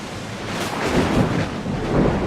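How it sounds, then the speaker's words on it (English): Thunderstorm at sea in Assassin's Creed Odyssey: a dense, steady wash of rain and wind with low rumbling thunder swelling under it, loud and close, with no voices. "And just see where the storm comes from."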